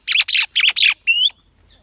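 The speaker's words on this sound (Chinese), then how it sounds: "这八哥又打起来了" Pet mynah birds fighting give several harsh, rapid squawks in quick bursts, ending with a thinner rising screech, loud and close.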